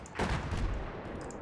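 Gunfire aimed at the player in the Battlefield 4 video game, a sharp loud burst of shots followed by a rumbling tail with a few fainter cracks trailing off.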